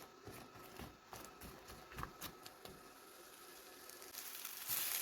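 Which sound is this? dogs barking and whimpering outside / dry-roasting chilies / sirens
dry-roasting chilies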